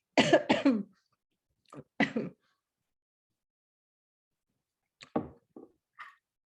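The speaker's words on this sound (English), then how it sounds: "So I'm going to have a big coughing fit." A person coughing in bursts during a relaxed author chat, a harsh double cough up front, then a pause, a couple more coughs and a throat-clear, close and alone in a quiet room.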